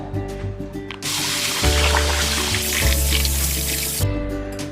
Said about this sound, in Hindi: इनको 3 से 4 बार हम अच्छे से पानी से वॉश कर लेते हैं पहले।